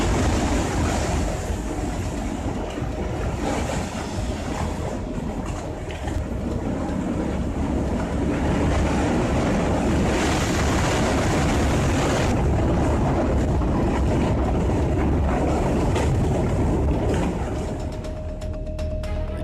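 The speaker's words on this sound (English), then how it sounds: "The deafening noise of the collapse" Roaring flash flood torrent carrying rocks as a dam and hillside collapse during a landslide in India, a dense, continuous loud rumble with surges and no speech.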